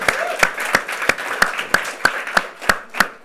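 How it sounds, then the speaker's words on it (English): An audience claps steadily and evenly, about three claps per second, sharp and close, with no voices over it. "Give them a round of applause, guys."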